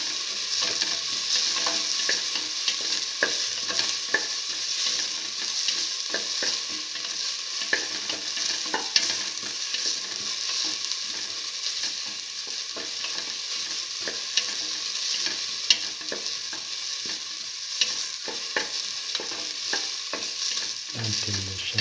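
Shallots sautéing with garlic and salt in a pan, a loud continuous sizzle with constant stirring and scraping running steadily throughout.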